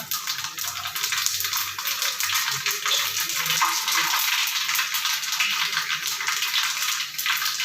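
Mustard seeds and fenugreek crackle and sizzle in hot oil alongside green chillies and garlic for a mango pickle, a dense, continuous frying hiss with faint stirring, close and fairly loud.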